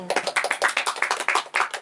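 Audience clapping in a studio talk show, a dense burst of many hands applauding together, close and lively, with a faint voice underneath.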